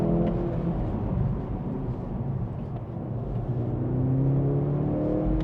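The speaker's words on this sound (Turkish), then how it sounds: "Ses var, aktif ses açık şu an." A Mercedes-AMG C63 S E Performance Estate in Sport Plus mode with active engine sound on gives a deep, steady drone with a throaty rumble, holding an even loud level throughout without pauses.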